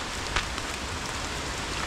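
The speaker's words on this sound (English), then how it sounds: "And it's raining quite a lot now," Heavy rain falls steadily near waterfalls in North Lombok, a dense, even hiss with no pauses and no voices.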